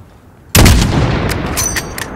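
A single loud rifle shot cracks at a target 600 meters away in Call of Duty: Modern Warfare (2019), the abrupt blast followed by a rolling echo and faint rattling tail.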